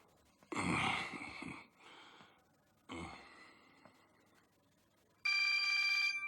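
A telephone ringtone bursts in near the end, loud, steady and electronic, after earlier breathy sighs and gasps with quiet gaps between them.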